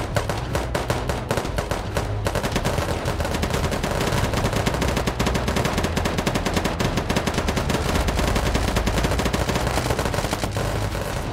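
Sustained automatic gunfire in the video game Unturned, a loud, dense stream of rapid shots that barely pauses for the whole stretch.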